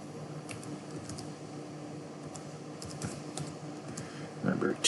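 Soft, rapid typing on a computer keyboard, a quiet run of irregular key clicks over a low background hum, growing briefly louder with a few sharper taps at the end.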